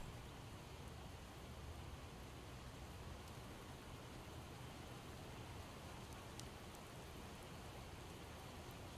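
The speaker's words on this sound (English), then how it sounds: "This rain." Steady rainfall in the zombie survival game Project Zomboid, heard near a campsite as a dense, even hiss of drops on surfaces throughout, with no voices.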